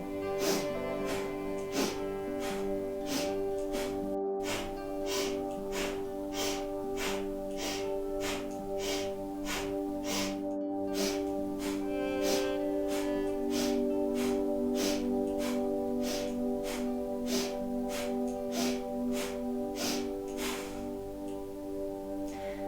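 Sharp, rhythmic Bhastrika breaths from a Hormone Yoga Therapy class, the belly pumping forcefully on each inhale and exhale, about twenty quick even puffs in steady succession, close and clear with a faint steady tone behind.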